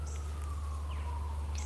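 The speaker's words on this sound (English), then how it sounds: "Oh, that siren's just going." A siren wails outdoors in a humid, hot setting, a steady distant rising-and-falling tone sitting over a constant low hum, with faint bird chirps and no talk.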